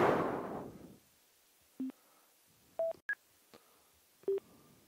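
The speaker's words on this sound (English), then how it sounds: "I was trying to get the intercom to work" An intercom keypad emits a series of short electronic dialing beeps, five or six separate tones at varied pitches spaced irregularly over quiet background, after a brief burst of noise at the start.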